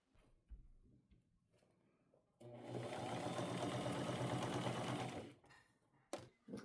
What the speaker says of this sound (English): So I'm just going to sew these edges, move that fur away, and try to stay as close to the edge as I safely can.